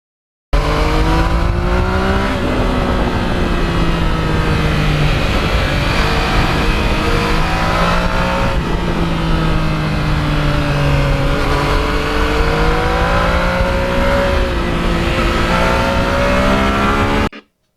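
A 2020 Yamaha MT-09 motorcycle with 14,000 miles and a quick shifter revs hard through rising and falling gear changes, a loud continuous engine whine heard up close while riding, with no talking.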